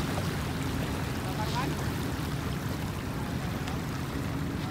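A fishing boat with its engine shut off is paddled through shallow water, giving a steady wash of water and hull noise with faint paddle splashes, continuous and fairly close.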